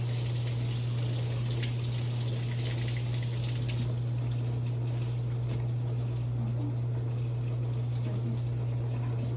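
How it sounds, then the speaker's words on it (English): Cold water runs steadily from a kitchen tap while food is rinsed, a constant hiss with a low hum underneath, uninterrupted and without talk. "what I'm going to do now is just rinse cold water"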